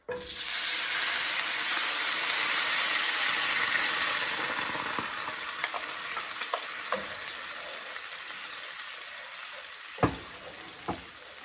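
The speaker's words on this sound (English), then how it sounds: "here we go with the beef broth into our skillet to deglaze it" Beef broth poured into a hot skillet for a pot roast bursts into a loud rushing hiss that slowly dies down, followed by scattered scraping clicks as the pan is worked.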